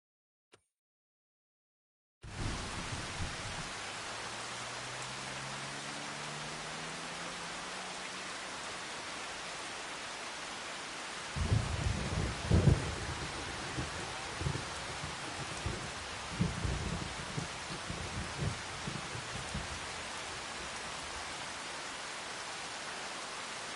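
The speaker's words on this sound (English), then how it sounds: "Let's see how long it's supposed to rain." Steady rain hiss with low rumbling thunder from a Farming Simulator 25 game, played on PS5, running broadband and even throughout, with heavier thunder swells in the middle and later; no talk.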